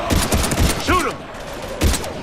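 Rapid gunfire in Mass Effect 3 comes in close, crackling bursts during a fight against husks, with a voice briefly shouting between the volleys.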